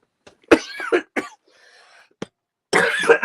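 A person caught in a coughing fit lets out a series of harsh, close coughs in uneven bursts, with short pauses between them and a final longer run of coughing.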